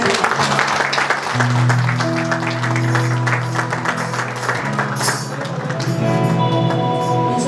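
A church congregation at a weekly Sunday service in Kuwait claps together in a dense, steady wash of applause over sustained musical tones, filling the room throughout.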